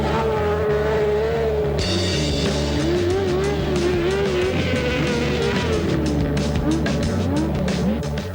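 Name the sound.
cross-car racing with 600 cc engine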